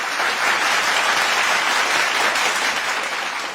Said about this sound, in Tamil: அவர்களுக்கு நல்ல கைத்தட்டல கொடுக்கலாம் நம்ம எல்லாருமே சேர்ந்து